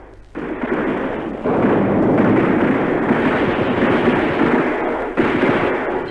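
A German tank attack with large numbers of troops, heard as battle sound effects: a loud, dense, continuous roar of rumbling explosions and gunfire bursts with no voices.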